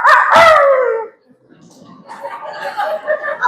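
A man imitates a dog growling at a rival dog, a loud harsh vocal snarl at the start, then quieter voiced murmuring in a class setting.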